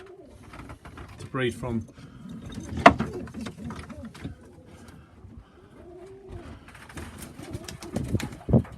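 Young pigeons cooing in a loft, soft repeated throaty coos close by with a few wing flutters, under someone talking.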